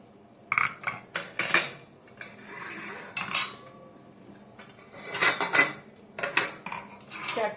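A washed metal idli maker stand being handled, with close clinks and clanks of metal plates knocking together in short bursts separated by brief quiet gaps.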